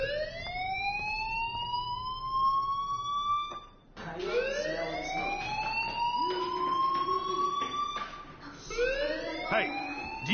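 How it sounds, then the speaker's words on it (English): A fire alarm sounds in the Life is Strange video game, a loud siren-like wail that sweeps upward in repeated rising tones, cycling several times with a brief gap near the start and no talk over it. "do you hear that fire alarm?"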